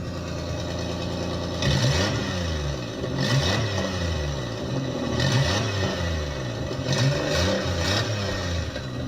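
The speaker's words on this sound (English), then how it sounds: "I just wanted to show you guys the really bad exhaust leak that I have" A Ford Escape engine with a badly leaking exhaust manifold idles roughly and revs up several times, each rev a loud throaty swell that falls back to a rumbling idle, with no talk.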